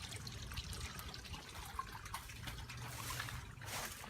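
Water trickling and dripping in a garden water feature, a quiet continuous splashing burble with small irregular drips, faint and steady outdoors with no voices.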